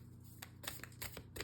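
Tarot cards being shuffled in quiet, soft rapid riffles and taps in short bursts, close and faint.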